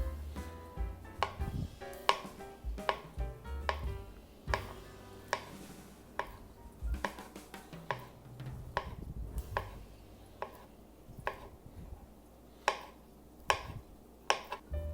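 Ingredients for a crepe filling being chopped with a knife on a cutting board, a quiet close series of irregular sharp taps with short pauses between bursts, no talking.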